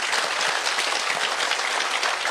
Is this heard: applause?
yes